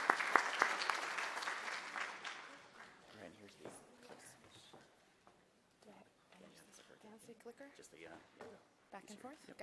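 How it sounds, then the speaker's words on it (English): An audience breaks into applause that fades out after a couple of seconds, then people begin talking in the room. "Let's give a round of applause for her."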